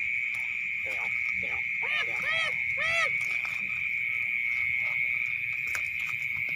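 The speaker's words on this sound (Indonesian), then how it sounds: "Kok bunyinya kodok begitu ya?" Repeated rippling frog croaks in short bursts over a steady high insect-like drone in a rice field, with faint voices in the background.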